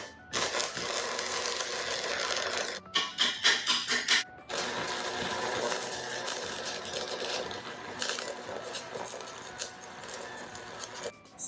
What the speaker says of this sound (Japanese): ステーを仮止めしたので本溶接していきます